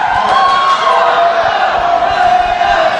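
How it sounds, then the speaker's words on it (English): A packed crowd at a Slammin' for Shriners pro wrestling show roars and chants in a steady, loud wall of voices that never lets up, with no single speaker standing out. "this crowd at Slammin' for Shriners is calling for it"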